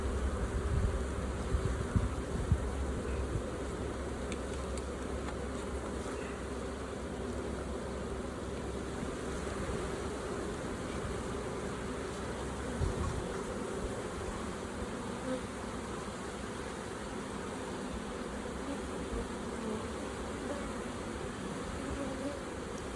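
Honey bees humming in a dense, continuous drone close by while a bee sample is taken from the hive, steady throughout with faint handling noises.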